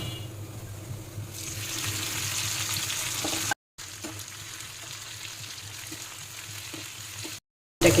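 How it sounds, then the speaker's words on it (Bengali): Taro with chopped garlic frying in plenty of oil, a continuous close sizzle with faint stirring, briefly cut off twice. "এটাকে সুন্দর করে ভাজা ভাজা করতে হবে"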